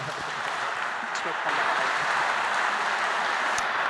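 Audience at a disability association congress prize ceremony in Brittany claps steadily for several seconds, a dense even patter that swells slightly toward the end.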